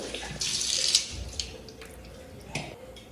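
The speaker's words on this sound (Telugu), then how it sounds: "ఒక అల్యూమినియం బౌల్ అయితే తీసుకోవాలి కడుక్కుంటున్నాను" Running tap water splashes into an aluminium bowl being washed, with a brighter gush near the start and a short clink or splash later, fairly close and quiet with no talk.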